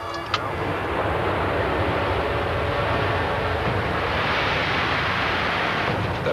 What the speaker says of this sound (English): Speedbird Concorde 1 cleared for takeoff.